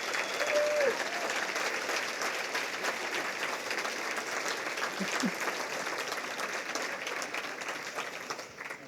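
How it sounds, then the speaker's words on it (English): Warm, sustained applause from an evening audience at a community peace-builder awards ceremony, honoring poets and award recipients, steady and full throughout at moderate distance. "could we do a round of applause for all of our poets and award recipients?"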